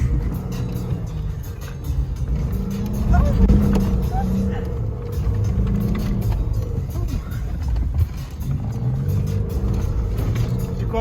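A safari car's engine hums and rumbles steadily from inside the vehicle on a desert safari tour near Dubai, with people talking over the continuous driving noise.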